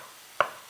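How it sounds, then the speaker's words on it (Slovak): A single sharp knife chop through button mushrooms on a cutting board, one close crisp knock in an otherwise quiet kitchen. "Šampiňóny nakrájame na kúsky"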